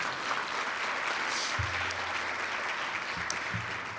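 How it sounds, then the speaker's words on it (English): Steady applause from a crowd at a township State of the Township address, clapping evenly throughout with a few low thumps in the background. "Round of applause for Pat Williams, please."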